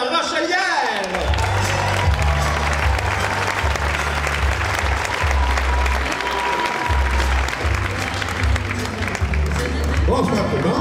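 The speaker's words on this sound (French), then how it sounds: "Bonne main d'applaudissements pour monsieur Marcel de la Rochelière." A retirees' gala crowd breaks into loud, sustained applause for a comedian taking the stage, with cheering and whoops over steady clapping and a thumping music bed underneath.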